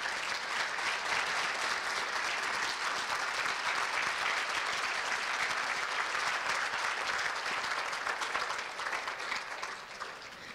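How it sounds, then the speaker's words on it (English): A standing audience at the 2018 ICNEV interfaith dinner in Scottsdale, Arizona, gives a dense, steady round of applause that stays loud for about nine seconds before easing off. "we're definitely all about applause tonight"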